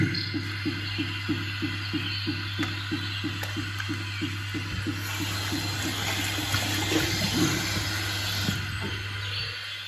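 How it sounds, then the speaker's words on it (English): Water gurgling noisily down a bathroom drain beside running water, a steady pulsing rhythm over a constant low hum, close and moderately loud. "I've got a drain here that's making some noise."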